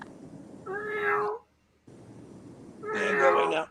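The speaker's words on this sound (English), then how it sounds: "Beautiful cat." A cat meows twice, a drawn-out mid-pitched call and then a louder, longer one after a short silence, close by over faint background noise.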